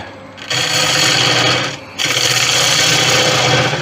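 A negative rake scraper cuts monkeypuzzle wood on a lathe while turning a Greek-style vase, giving a steady, loud rasping scrape that breaks off briefly once before starting again.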